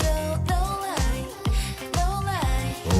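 Plucked guitar chords ring out with layered harmony over a steady low pulse, notes gliding between phrases in a smooth, continuous groove.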